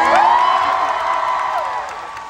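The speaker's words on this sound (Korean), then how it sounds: "박수 한번 주세요." Fan-concert crowd at a 2024 fan-con erupting in loud cheering and screams over clapping, a dense high-pitched roar that slowly tapers.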